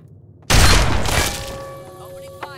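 Gunfire bursts out in a video game with a sudden loud blast that decays into ringing tails, with a small thump near the end and no voices.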